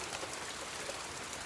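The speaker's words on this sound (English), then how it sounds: "It's really raining." Rain falls steadily on an outdoor trampoline, a dense, even hiss of many drops that stays constant and fairly faint throughout, with no voices.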